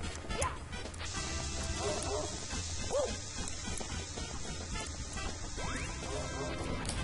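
A dog barks and yips in the PC version of Super Mario 64, with short snappy calls under a dense, constant wash of game noise and crash-like effects.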